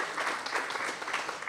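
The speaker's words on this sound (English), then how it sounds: "another round of applause to Arturo Angeles for his selection" An audience at a Cal South presidents summit claps in a brief burst of applause, a dense, even patter of many hands with no voices over it.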